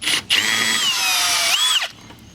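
A power tool spins out the headlight bolts on an eighth-generation Toyota Camry, one loud, close whine that rises, holds steady for over a second, then winds down, with no talking.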